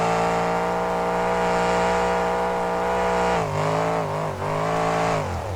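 A Ford monster truck spinning donuts at a 2008 monster truck show in Oakland, California: a loud, close engine holds a high, strained rev, then its pitch dips and wavers as the throttle changes.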